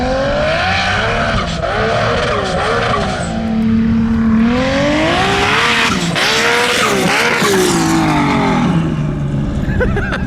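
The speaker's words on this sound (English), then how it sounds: "you can really hear the turbo on the hill." A turbocharged 1300HP Polaris RZR climbs a sand dune, its engine loud and close, rising and falling in pitch through steady revving with sustained turbo whine over roaring exhaust.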